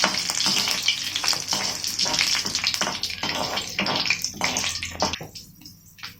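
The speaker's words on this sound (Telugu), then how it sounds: "కొద్దిగా కరివేపాకు, ఒక ఎండుమిర్చి. ఇవన్నీ కొంచెం వేగనివ్వాలండి దోరగానే." Curry leaves and a dried red chili crackle and sizzle in hot oil for a lemon pickle tempering, a steady close frying hiss with bursts of popping and spatter that fades out near the end.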